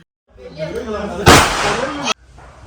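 During a Vishu celebration at home, someone speaks briefly, then a single firecracker bursts close by in a loud, sharp crack that cuts off abruptly.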